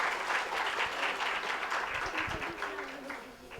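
An audience applauds at the closing of a Bhagwat Katha, a dense, steady clapping that holds for several seconds and then thins toward the end, with a voice faintly under it.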